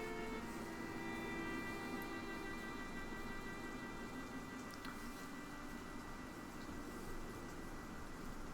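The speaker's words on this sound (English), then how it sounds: "You hear the rain falling down" Steady rain pattering down in a continuous soft hiss, with occasional drips standing out, quiet and even throughout.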